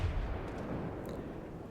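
A battleship's main guns in World of Warships fire a long-range shot, a dense, booming low rumble that rolls on steadily from the start with no voices over it.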